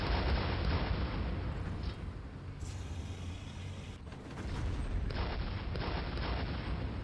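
Tank cannon shots in a video game: loud, heavy blasts with a broad rumbling roar that stays dense and sustained throughout, swelling again toward the end, with no talking.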